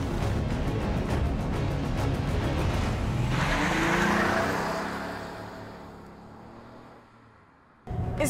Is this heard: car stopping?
yes